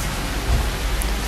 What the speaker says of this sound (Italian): sole, pioggia, pioggia forte, pioggerellina